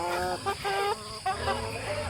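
Pet chickens, a mix of Radical Brown and Rhode Island hens, clucking in short bursts at close range with faint background noise, a voice murmuring briefly.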